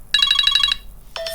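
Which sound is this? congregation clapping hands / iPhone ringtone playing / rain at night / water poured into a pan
iPhone ringtone playing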